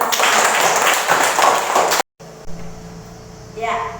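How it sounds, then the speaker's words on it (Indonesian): Students in a classroom clap their hands together, a loud burst of applause lasting about two seconds that ends sharply and is followed by quiet room sound and a voice. "Tepuk tangan dulu untuk kita semua."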